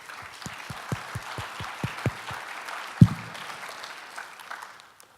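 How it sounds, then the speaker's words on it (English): Scattered, sparse applause from an audience at an entertainment industry summit, with individual distinct claps early on that thin out and fade, one sharp louder clap midway. "Let's join me in giving them a round of applause."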